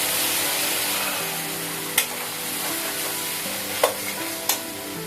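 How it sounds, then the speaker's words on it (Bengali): Masala spice paste sizzles steadily as it fries in a pan, with a few sharp scrape-and-clack stir strokes breaking through the constant hiss. "এই জন্য মশলাটাকে 1 মিনিটের মতো ভেজে নিয়ে দিয়ে দিব জল"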